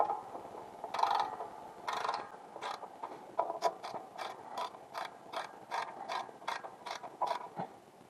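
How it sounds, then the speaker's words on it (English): A wrench ratchets as a bolt is tightened during a clutch replacement on a Case 585 tractor, giving a series of quiet, sharp clicking strokes in a steady rhythm with no talking. "I'm gonna tighten her up"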